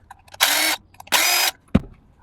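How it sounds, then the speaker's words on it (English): Two short bursts of a power drill whirring, each under half a second, followed by a sharp click; quiet otherwise, no talking. "I love that drill."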